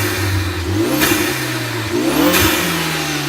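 Ford ST turbocharged car engine revved twice up to about 4000 RPM, loud and close, each rev rising then dropping back with a whistling turbo spool over the engine note.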